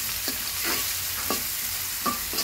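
Garlic and onion fry in hot oil with a steady sizzle, broken by a few soft stirring scrapes at irregular intervals, close and alone with no talk.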